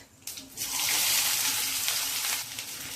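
Onion dropped into hot oil with mustard seeds and cumin bursts into a loud, close hissing sizzle that swells quickly and holds steady before easing slightly.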